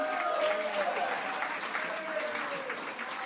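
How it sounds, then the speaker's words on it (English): Audience applause for the hosts at a New Jersey political rally held at Spring Lake Manor: dense, steady clapping from a crowd, fairly close and continuous, with a voice carrying faintly over it. "Give them a round of applause for hosting"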